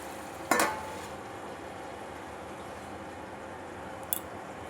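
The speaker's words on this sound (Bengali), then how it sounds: "ঢাকা খুলে আমি আবার তরকারিটা নেড়ে দেবো" Spinach curry made with onion and garlic is stirred in a pan, giving two brief scraping clatters, one near the start and one near the end, over a faint steady sizzle.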